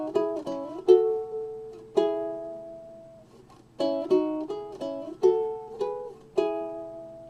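A ukulele plays the guitar riff from the second verse of a song as several short groups of plucked notes with gaps between them, close, clean and unaccompanied.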